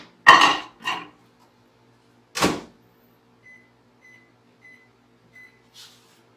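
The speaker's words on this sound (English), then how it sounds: "So I just melt it in the microwave" A microwave oven is used to melt baking ingredients in a home kitchen: a few loud knocks of a dish and door come first, then a quiet room and a series of short, evenly spaced beeps.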